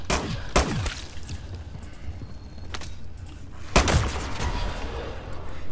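Gunfire at zombies in Modern Warfare 3, a few sharp isolated shots standing out over a low rumbling game background, spaced seconds apart, with some fainter reports between them.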